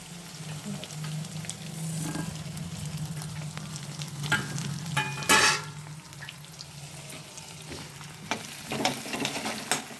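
Curry leaves frying in hot oil for tomato pachadi, a close crackling sizzle with a brief loud spatter as they hit the oil, plus stirring and faint pan clinks, no talk.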